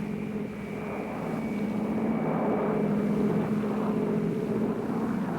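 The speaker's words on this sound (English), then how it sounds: "In one of the largest air-mobile assaults ever, 240 helicopters swept over Thanh Ninh province." A steady, loud drone of aircraft engines fills the air with a constant rotor-like hum, matching military helicopters sweeping over Thanh Ninh province in a massed Vietnam War air assault, with no voices.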